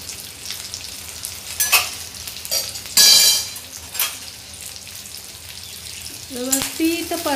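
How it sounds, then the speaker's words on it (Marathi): Green chilies hit hot oil and fry with a steady sizzle, while bursts of stirring and metal clinks on the pan rise over it and a brief louder spatter flares midway. "तेल तापलं की आपण सर्वात आधी हिरवी मिरची घालायची आहे।"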